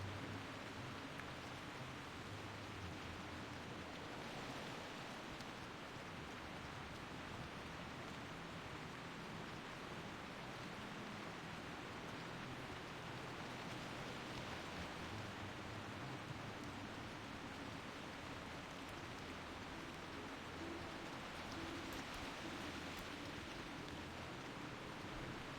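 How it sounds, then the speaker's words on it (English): Steady, even hiss of rainfall in a World of Warcraft: Wrath of the Lich King game continues without a break, soft and constant with no voices. "Bloody rain though, eh?"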